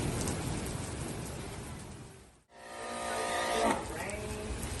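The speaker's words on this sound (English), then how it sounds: "And it's raining, y'all." Steady rain falls outdoors at a car dealership during a detailing and coating job, a dense hiss throughout with a brief dropout midway; a voice is faintly present.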